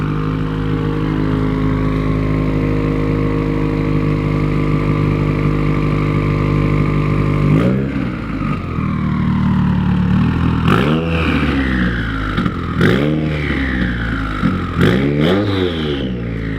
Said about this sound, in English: You can really hear the turbo with FA20s